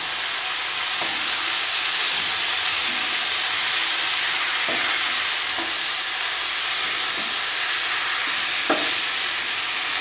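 Cabbage is stir-fried with previously added spices for a prawn and cabbage ghonto. A loud, steady sizzle runs throughout, with occasional soft scrapes and clicks from stirring in the pan.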